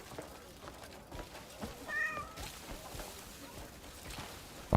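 Cat meowing in the Crimson Desert video game, one brief faint meow partway through, set against a busy game ambience with occasional soft thumps and a sharp knock at the very end.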